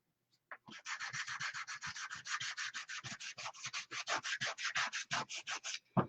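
Rhythmic sanding by hand, a steady series of about thirty quick raspy strokes at an even pace, close and fairly loud.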